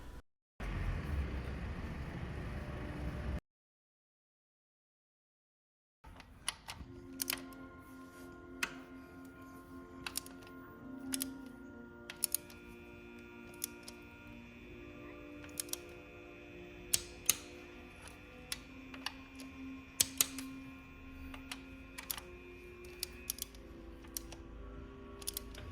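A torque wrench tightens the oil filter on a Ducati 959 Panigale motorcycle: quiet, scattered metallic ticks and clicks at an irregular pace after a short burst of noise and a silent gap.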